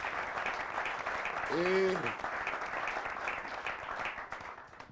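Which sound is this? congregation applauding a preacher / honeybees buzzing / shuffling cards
congregation applauding a preacher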